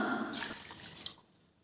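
Ice water is poured into a mixer jar holding cut watermelon pieces, a brief close splashing trickle that fades out after about a second, with no voices.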